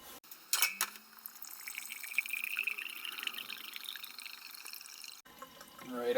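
Vinegar pours into a container as a thin liquid trickle and splash, running for several seconds at moderate loudness, with a short clink at the start and a voice speaking briefly at the end.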